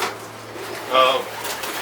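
Racing pigeons in a loft in Bulverde, Texas, give a short, close coo over a steady low room hum.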